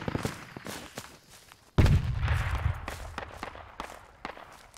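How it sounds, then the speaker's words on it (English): An explosion in the tactical shooter Project Reality during a jungle infantry battle booms suddenly partway through, a loud low blast that rolls on and fades, amid scattered distant shots and footsteps. "What was that explosion?"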